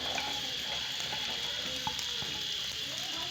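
Onions fry in oil in a kadai at the start of a chole recipe, giving a faint, steady sizzle with occasional small clicks and scrapes and no talking.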